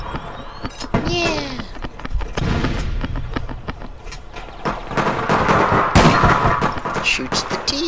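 Gunshots in the video game APB Reloaded: a series of sharp cracks spread irregularly through the clip, some single and some in quick clusters, growing louder and busier toward the end over a noisy game background.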